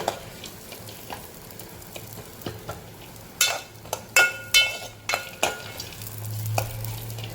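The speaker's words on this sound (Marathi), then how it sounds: "आता आपण ड्रायफ्रूट भाजून घेऊया" Dry fruits and sev are roasted in a pan: a low sizzle runs under sharp scraping and stirring strokes that come in irregular bursts, close by, with no talking.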